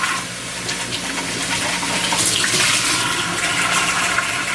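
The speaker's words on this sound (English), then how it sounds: "I'm just gonna rinse out my cup or my bottle," Steady running tap water gushes as a water bottle is rinsed out under the faucet, a continuous close splashing rush with no talking.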